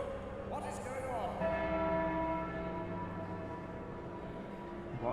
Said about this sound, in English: What's that bell ring?